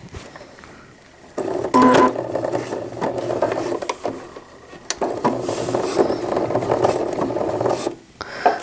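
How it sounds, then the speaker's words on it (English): A sewing machine runs in short bursts while tacking elastic onto a fitted crib sheet, giving a close, buzzy mechanical whir that starts and stops with pauses between stitching runs. "My machine does that tacking stitch before I start to kind of help."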